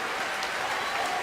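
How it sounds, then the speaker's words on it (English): Dense crowd applause and cheering at BlizzCon 2011 after a StarCraft II final, a continuous loud wash of clapping with scattered shouts, steady throughout. "The crowd is going nuts."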